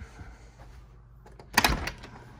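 A Raspberry Pi home-automation door lock releases and the door swings open: quiet mechanical rattling, then a louder burst of clunks and a brief sliding rush near the end, heard close up.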